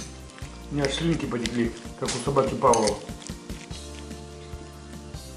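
Steady frying hiss of zucchini and potatoes in a pan runs throughout while cutlery clinks against dishes, and a person talks over it for a few seconds in the middle.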